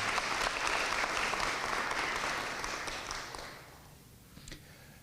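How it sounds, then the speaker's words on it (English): Audience applause at a university W.E.B. DuBois Day event, a full round of clapping that holds steady and then tapers off toward the end. "First, I'll give them another round of applause."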